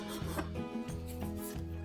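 Sandpaper of 220 grit rubbing against spinning wood on a lathe, a steady raspy hiss with a low motor hum underneath and rhythmic back-and-forth strokes roughly every half second, close and continuous with no talking.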